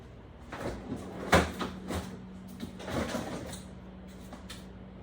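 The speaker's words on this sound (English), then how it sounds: "All right, so I'm going to place this in the freezer." A home freezer door opens and closes with a firm thump and rattle at close range, followed by quieter handling knocks and shuffling.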